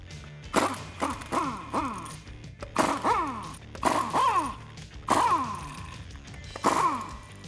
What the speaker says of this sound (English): grab your impact gun or whatever you're using to get those lugs out of the way and remove your wheel